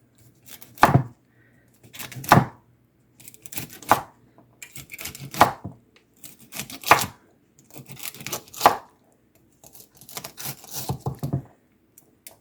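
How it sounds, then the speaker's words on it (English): A knife chops food into bite-sized pieces on a cutting board, sounding as sharp, distinct bursts of several rapid cuts, each burst spaced about a second and a half apart, close and clear with no talking. "So we just want to chop them into little bite-sized pieces."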